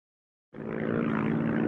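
A propeller airplane flies over for aerial photography. After a moment of silence its engine drone cuts in abruptly and holds steady and fairly faint, with no speech.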